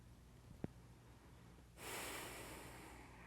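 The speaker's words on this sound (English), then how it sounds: "I'm going to take 2 more breaths." A person takes deep yoga breaths, a brief sharp inhale snort followed by a long, steady, breathy exhale that rises and holds, close and fairly quiet.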